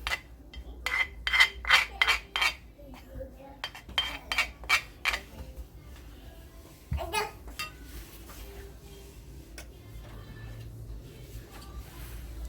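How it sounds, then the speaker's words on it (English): Lemon zested on a grater for a Jamaican Christmas cake, a quick series of close, sharp rasping strokes in a rhythmic burst, followed by quieter kitchen rustling. "So now we're going to add some of our zest or lemon zest."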